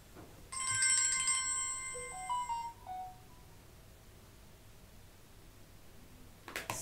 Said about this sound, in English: I forget to put my ringer off and it always rings the minute I start a reading